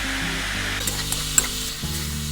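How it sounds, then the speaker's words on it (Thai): Pork belly stir-frying in a pan gives a steady, fairly loud sizzle with a few faint clinks of the utensil against the pan, and no talking. "พอผัดหมูของเราเริ่มสุกแบบนี้นะครับ"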